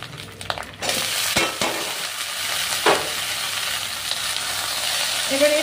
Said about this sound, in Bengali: মাছের ডিমটা পুরো ভাজা হবে